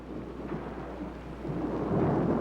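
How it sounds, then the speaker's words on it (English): Thunder rolls through a rainstorm as a low, swelling rumble that grows louder toward the end over the hiss of steady rain. "it's only thunder, dear"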